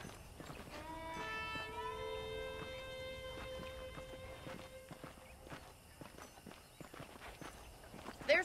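Horse hooves clip-clop at a walking pace on a town street in Red Dead Redemption, a steady run of close, moderately loud knocks over a soft background, with a brief tonal sound near the start.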